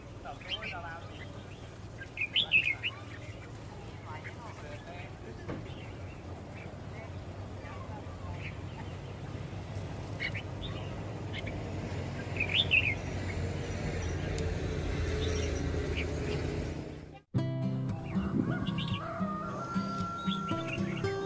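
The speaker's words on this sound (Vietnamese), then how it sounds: "Bây giờ mình sẽ cho anh em xem mấy con chim chào mà từ năm trước mình bẫy được." Caged red-whiskered bulbuls, wild birds trapped a year earlier, give scattered short chirps and tweets that rise over a steady low rumble and background noise, with a brief dropout near the end.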